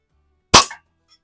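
A single sharp, loud shot from an antique Eisenwerke Gem No.13 air gun fired at a turkey target in a garage, a near, abrupt crack that dies away quickly into silence.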